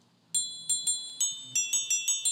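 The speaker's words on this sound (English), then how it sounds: "I forgot that I actually made a synth from a bicycle bell" A synth built from a sampled bicycle bell plays nine bright, ringing tones in a quick, slightly uneven melodic run, each note struck sharply and sustaining with a shimmering metallic overtone after a brief silence.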